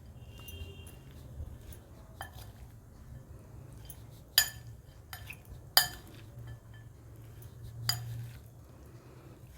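A spoon stirring food in a bowl, heard as soft rubbing punctuated by several sharp metallic clinks against the rim at irregular intervals, close up over a quiet kitchen background with no voices.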